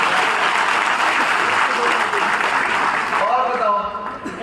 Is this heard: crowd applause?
yes